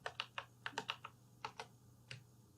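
Quiet, irregular clicks of code being typed on a computer keyboard during a JavaScript lesson, about a dozen keystrokes in quick clusters with brief pauses.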